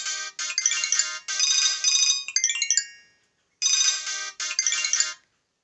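A mobile phone ringtone plays a loud, bright melodic tune in repeated bursts, stops for about half a second, then starts ringing again.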